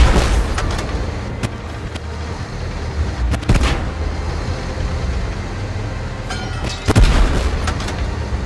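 Video game gunfire with several sharp bursts and booms over a rumbling, noisy background, the loudest volleys near the middle and end.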